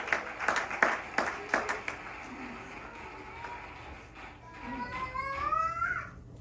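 A church congregation claps and applauds the Lord, a brief burst of rhythmic hand claps at the start that fades, followed by a faint cry-like vocal sound near the end.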